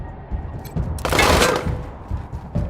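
Gunfire in the post-apocalyptic game Wasteland 3: muffled thuds at first, then a loud rattling burst of shots that swells and fades over about a second, with softer impacts trailing after.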